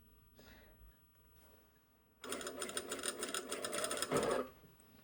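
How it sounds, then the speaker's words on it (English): Sewing machine stitching an all-in-one facing onto a bodice, with faint fabric handling first and then a steady, close mechanical whir of stitching for about two seconds that ends abruptly. "I'm just going to start off and sew as far as I can, which is not super far"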